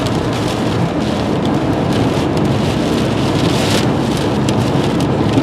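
Steady rain and gusting wind roar around a car driving through a March nor'easter, a dense continuous wash of drops drumming on the vehicle with no voices.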